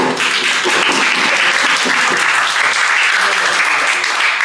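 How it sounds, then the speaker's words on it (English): A class applauds in a dense, loud, continuous burst of clapping that holds steady throughout, at a school event with visiting WWF guests. "they really deserve a big round of applause, guys"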